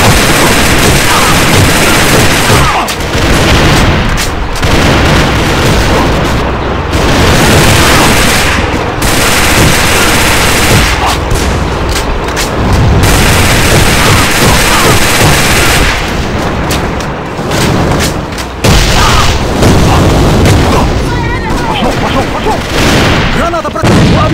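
Gunfire and grenade blasts in the online military shooter Escort Scorpion, dense loud bursts of automatic fire and booms continuing throughout with barely audible voices in the mix.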